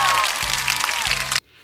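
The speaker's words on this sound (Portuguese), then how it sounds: "Editor, por favor, coloque palmas aí no vídeo." Dubbed-in applause from a crowd, a dense burst of clapping that runs loud and steady for just over a second and then cuts off abruptly into near silence.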